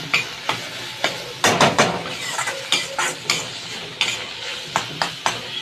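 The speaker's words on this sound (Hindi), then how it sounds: "ये मेरे मसाले भुन रहे हैं" Masala of turmeric, chili, salt, coriander and tomato fries in a pan while being stirred, with repeated scraping strokes of a spoon over a soft steady sizzle, close and fairly loud, no voices.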